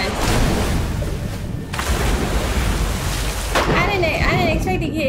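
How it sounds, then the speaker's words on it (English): A thunderstorm in Metal Gear Solid 5 unleashes a lightning strike, heard as a loud, dense crackling rumble of rain and thunder that briefly dips before surging again near the end. "I didn't expect to get hit by no bolt of lightning."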